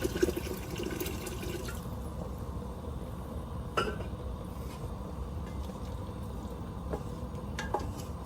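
Water pours steadily into a cooking pot holding chicken for a stock, a continuous close splashing fill with a few louder bursts and no talking.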